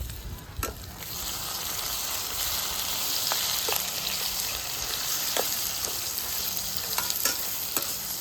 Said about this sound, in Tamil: தக்காளியும் நல்லா வதங்கி வரணும்